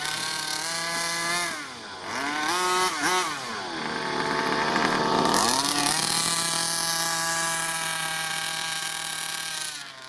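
Rovan Q-Baja Shorty 29cc two-stroke gas 1/5-scale RC car engine during its first run-in, a loud, close, raspy buzz that revs up and down in a few quick blips before holding a high steady whine.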